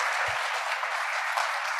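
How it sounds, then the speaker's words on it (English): Brief burst of audience applause at a youth community day event, a fairly dense crowd clapping steadily at moderate volume with no talking over it. "Let's give her a round of applause."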